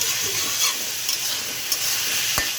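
Radish greens stir-frying in a pan, a steady high sizzle and hiss with occasional scraping stirs and a sharp clink near the end, no voices.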